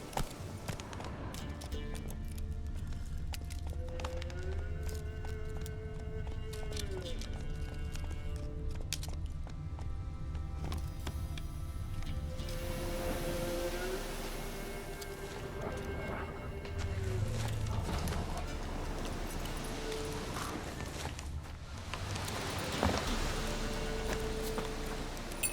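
Rhythmic hoofbeats of Roach, a horse in The Witcher 3: Wild Hunt, running steadily at a brisk pace under a game soundtrack with sustained tones, the clopping continuing through most of the stretch.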